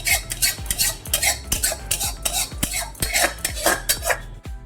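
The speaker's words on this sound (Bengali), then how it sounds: "এই প্লেটে আমি ঢেলে নিচ্ছি।" Fried prawns slide and clatter from a metal pan onto a plate, giving a close run of sharp scraping and clinking hits, with one last knock near the end.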